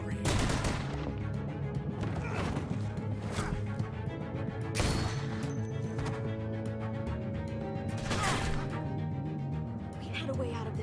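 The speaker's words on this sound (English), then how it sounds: "I hear gunfire." Gunfire in The Walking Dead: A New Frontier video game, several sharp loud shots and bursts spaced through dense background noise and music, with voices talking in between.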